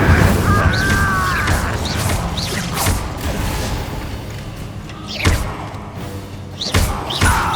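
Confringo spell blasts in the Hogwarts Legacy video game go off as a series of sharp thumping booms and crashes, spaced irregularly over a continuous rumbling battle backdrop.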